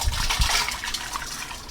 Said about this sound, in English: so I'm gonna add a little bit more water.